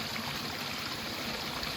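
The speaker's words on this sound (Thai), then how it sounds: "เลาะไปก็เห็นไปเรื่อยน้ำตกอันนี้" A forest stream and waterfall over rock flow in a steady, continuous rush of water, close and even, with no voices.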